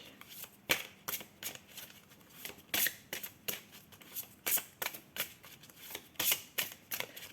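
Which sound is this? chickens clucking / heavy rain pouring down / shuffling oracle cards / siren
shuffling oracle cards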